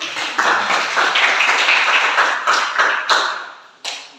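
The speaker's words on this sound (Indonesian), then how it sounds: "tepuk tangan untuk semuanya dulu" Students in a classroom clap their hands together for everyone, a few seconds of fairly close, uneven clapping that trails off into a couple of final separate claps.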